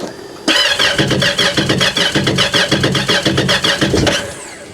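A Yamaha WaveRunner personal watercraft engine cranks and catches after a moment of quiet, then runs with a loud, pulsing, uneven rumble close by.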